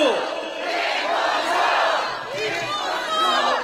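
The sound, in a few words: crowd shouting and cheering at election rally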